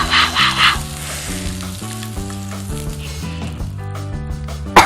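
Bread slices roasting in butter on a pan in a kids' cooking show, a steady close sizzle under bright background music throughout.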